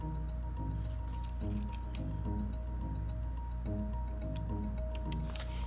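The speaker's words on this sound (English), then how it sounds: "We're going to mix this batter not very long, just for a little bit, so the flavor of the anise seeds will come out more into the batter." Cornmeal coconut cake batter with anise seeds is stirred briefly, giving soft, wet squishing and rhythmic scraping strokes over a low steady hum, with a small click near the end.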